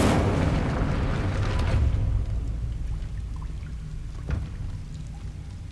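A fire spell cast in Hogwarts Legacy bursts out as a loud, dense roaring whoosh for about two seconds, then fades into a softer crackling hiss with a faint thump, alone without talk.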